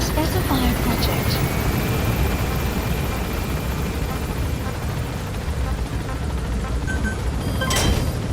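A helicopter in the video game Metal Gear Solid V climbs with a dense, steady rotor thrum, loud and continuous throughout, with small bleeps and a burst of noise near the end.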